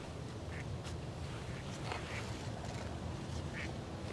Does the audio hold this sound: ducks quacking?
yes